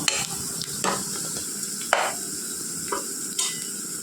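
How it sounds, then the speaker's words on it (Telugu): Onions fry in oil in a pan for a restaurant-style chicken gravy curry, giving a steady close sizzle with periodic scraping stirs and clatters of the utensil against the pan, with no talking. "ఆనియన్స్ గోల్డెన్ బ్రౌన్ కలర్ వస్తున్నాయండి ఇంకా కొద్దిగా వేగితే ప్లేట్లో తీసుకుందాము"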